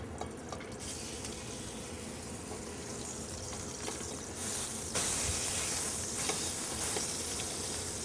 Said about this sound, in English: now we're going to take that and pan sear it